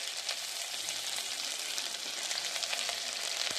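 Green chillies and tomato sizzle and fry steadily in a hot pan for garlic rice, a continuous dense crackle with occasional sharper pops, close and alone without talk.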